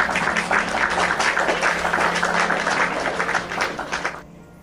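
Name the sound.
applause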